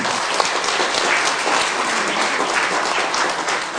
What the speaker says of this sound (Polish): ja poproszę jeszcze o brawa i takie serdeczne podziękowanie dla pana Jan